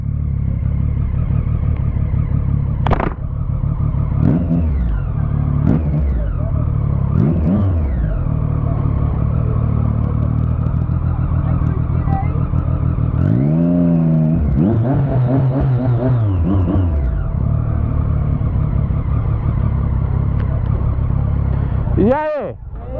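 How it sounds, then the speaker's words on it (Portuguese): A loud car exhaust rumbles on a street near a school, with revving bursts and passing engine sweeps over a constant low drone, and people talking through it. "Um barulho de escapamento, não escuto?"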